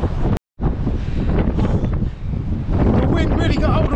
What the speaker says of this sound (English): The wind really got hold of me then.